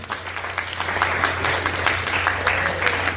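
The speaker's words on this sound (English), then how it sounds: "So, round of applause for Ken." An audience at a speaking event breaks into steady clapping, a dense patter of many hands at moderate distance lasting the whole stretch without speech.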